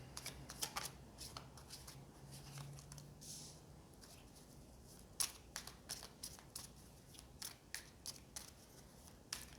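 Tarot cards being shuffled by hand, soft riffling and slapping close by, in quiet irregular bursts with faint patter between them.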